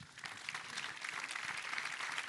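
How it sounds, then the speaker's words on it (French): A crowd claps steadily, a dense patter of many hands sounding together throughout. "On peut les applaudir."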